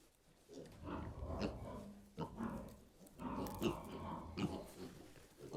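Pigs grunt and snort in short, rough bursts, quiet and close, with the odd faint voice in the background.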